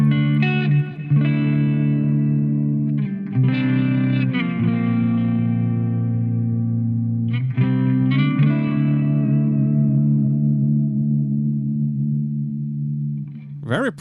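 A clean electric guitar tone through a multi-effects unit, sustained chords ringing out with reverb and a shimmering chorus, struck a few times and left to decay, played alone.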